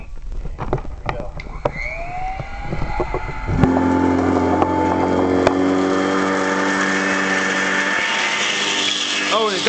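Old Royal 608 upright vacuum cleaner with a 3 amp motor, metal fan and dump-out bag, tested on bird seed: a few handling knocks, then the motor whines up loudly and runs steadily, close to the microphone.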